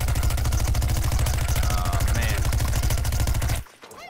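Rapid automatic shooting in the video game Plants vs Zombies: Garden Warfare, a steady loud stream of evenly spaced shots lasting several seconds before cutting off abruptly.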